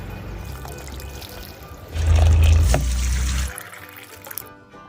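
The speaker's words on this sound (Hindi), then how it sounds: "और मैंने सोचा सबसे पहले अपने पौधों को पानी देती हूँ।" Water is poured onto potted plants outdoors on a clear, sunny day: a low background hum swells into a loud, splashing pour for about a second and a half, then fades away.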